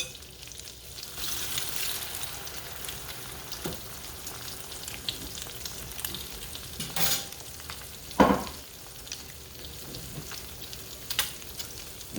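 French toast fries quietly in a skillet with a soft, steady sizzle, broken by scattered scrapes and clinks of a utensil and a louder knock near the end.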